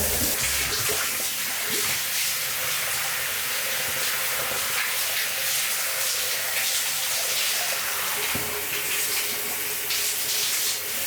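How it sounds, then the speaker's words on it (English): Water runs steadily from a bathroom sink tap, a loud continuous hissing gush lasting throughout, with a few faint knocks underneath. "Let me go to the bathroom और turn on the sink और एक एकदम ठंडा पानी आ गया।"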